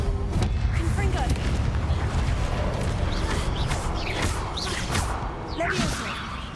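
A Confringo fire spell blast from Hogwarts Legacy rings out amid a dense, busy battle mix of whooshes and impacts, with a voice speaking over the game audio.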